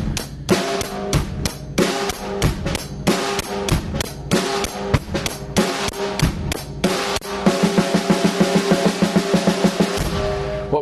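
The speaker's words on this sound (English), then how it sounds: "we want to play up three measures of a beat and then one measure of a fill" A drum kit plays a steady rock beat with crisp snare and cymbal hits for several bars, then breaks into a busier one-measure fill of rapid drum strokes before stopping, loud and close with no talking.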